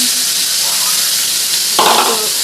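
Chopped onion and chili hit hot oil left over from frying fish and sizzle loudly and steadily, with a burst of fresh spattering near the end as more goes into the pan.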